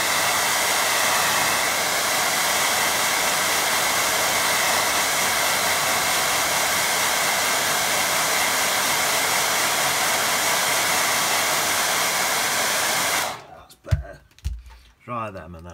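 A hair dryer blows a steady, loud whooshing roar over a watercolour painting for about thirteen seconds, then switches off, followed by a few soft handling knocks.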